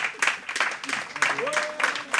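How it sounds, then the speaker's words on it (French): An audience applauds as a guest arrives on stage at an awards event, a wash of clapping from a crowd at moderate distance, with a voice speaking over it. "On peut l'applaudir très très fort."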